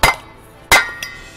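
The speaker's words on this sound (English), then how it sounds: "So I'm going to take a ball peen hammer." A ball peen hammer strikes a metal Viking shield resting on grass: two sharp, loud metallic blows about 0.7 seconds apart ring briefly, followed by a lighter tap, with no speech.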